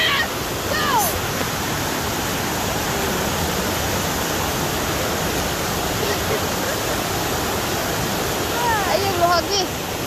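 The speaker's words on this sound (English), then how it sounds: "So, waterfall." Anna Ruby Falls, a waterfall in Georgia, roaring as a steady, loud, broadband wash of falling water that fills the whole stretch, with faint voices and a few brief chirps over it.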